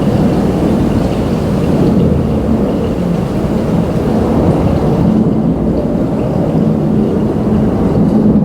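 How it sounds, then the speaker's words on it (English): An airplane passes near an airport with a highway nearby, a loud, broad, steady roar that fills the whole stretch without pause and slowly begins to fade. "The sound of that airplane just almost gone"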